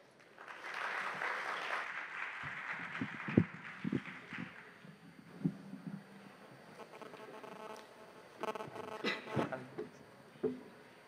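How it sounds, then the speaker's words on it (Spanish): Audience at a university panel discussion applauds moderately for the moderator and guests, a soft, scattered clapping that swells early, thins into a few distinct claps, then flares again briefly near the end. "Un aplauso para ellos"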